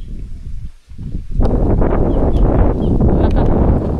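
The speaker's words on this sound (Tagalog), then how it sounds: "yung lakas ng hangin." Strong gusts buffet the microphone outdoors beside a maize field, a broad low roar that drops briefly then surges loud and steady for the rest of the moment, with no voices over it.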